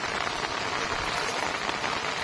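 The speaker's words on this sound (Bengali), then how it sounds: "আপনারা দেখতে পাচ্ছেন জলে বৃষ্টির ফোটা ফোটা বিন্দু" Rain falling on open water on a wet day in the Sundarbans, a steady soft hiss of drops pattering without pause and with no talk.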